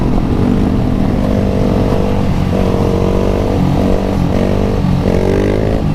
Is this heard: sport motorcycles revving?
yes